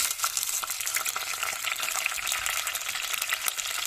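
Chopped onion and carrots sizzle and crackle steadily in a hot pan, a constant frying hiss with small pops throughout, close and fairly loud, no talking.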